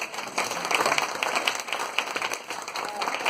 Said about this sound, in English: Let's give Okay. Sterling a round of applause